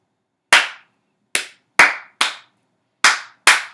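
Hands clap a rhythm in a quiet room for a beginner ukulele lesson: six sharp, close claps, spaced unevenly with two quick pairs, each one ringing out briefly into silence.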